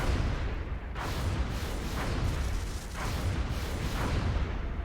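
Aircraft weapons firing on a UFO during an air interception in XCOM: Enemy Within, heard as a loud, continuous rumble of heavy shots with bursts repeating about once a second.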